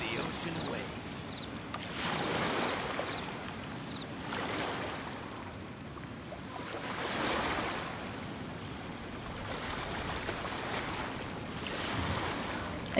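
Ocean waves wash in slow surges of broad noise in Genshin Impact, swelling and receding about every few seconds with a breezy, windy hiss, steady and moderately loud throughout.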